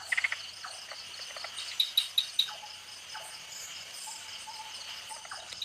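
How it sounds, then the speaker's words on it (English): Tree frogs call at night in a Thai forest, several short bright chirps and clicks ringing out in quick bursts over a continuous insect hum, fairly faint and distant, with no voices. "A night owl, various tree frogs,"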